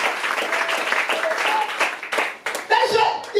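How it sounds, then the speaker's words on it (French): A church congregation claps and cheers for Jesus in a burst of loud, uneven applause, with voices calling out over the clapping. "Clap for Jesus."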